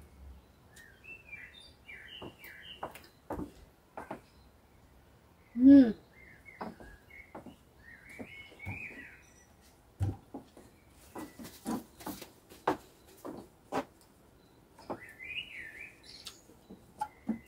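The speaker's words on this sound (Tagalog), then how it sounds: "Muhuni mga ibon na." Birds chirp and tweet in scattered short calls amid quiet surroundings, with occasional clicks and taps in between.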